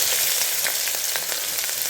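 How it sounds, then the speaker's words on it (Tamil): Steady, bright sizzling of pandan leaves frying in hot oil, close and continuous with crackling pops throughout. "இந்த பாருங்கள் எண்ணெய் காஞ்சிருச்சு நான் ரம்பையிலையே சேர்த்துக்கிறேன்"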